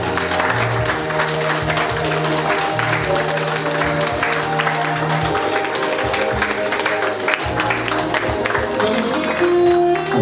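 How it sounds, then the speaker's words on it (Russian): Guests at a wedding ceremony led by a priest break into warm, continuous applause over steady background music, the clapping filling the whole stretch at a lively, even level. "аплодисменты"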